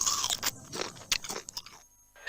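Crunchy Nabisco cream biscuit bitten in an advert: several crisp, close bites and crunches in quick succession, loud and dry, with no talking over them.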